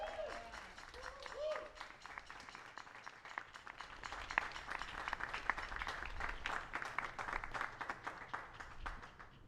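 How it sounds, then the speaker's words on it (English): Audience applause at a youth orchestra concert at Nottingham Castle, starting thin and building into steady, dense clapping that carries on evenly to the end, with a voice briefly heard at the start. "Give them a clap."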